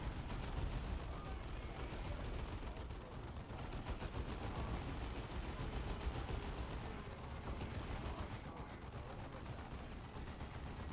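Dense, continuous battle din of gunfire and explosions in the Warhammer video game, a grenade blast folded into a loud, unbroken roar of artillery-like booms and shots lasting the whole stretch, with no clear gaps.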